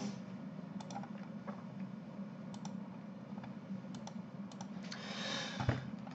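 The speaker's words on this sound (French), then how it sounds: "Juste à cliquer." A computer mouse gives scattered light clicks at close range over a faint steady hum, irregular in rhythm with a soft rustle near the end.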